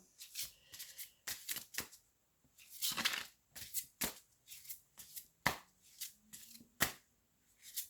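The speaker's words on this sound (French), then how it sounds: "je vais tirer 3 cartes pour le Sagittaire" Tarot cards being shuffled and drawn from a deck, with crisp close riffling snaps and flicks in irregular bursts and short gaps, no talking over them.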